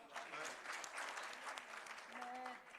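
Audience at an international Punjabi conference clapping, a dense, steady round of applause throughout with a voice speaking over it near the end.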